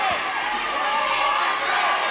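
Arena crowd at a 1980 New Zealand professional wrestling match, a dense wash of voices chanting and roaring for one wrestler, steady and loud throughout.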